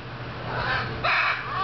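An African grey parrot gives two short, harsh, raspy calls up close, the second louder and more strident, in a quiet indoor room.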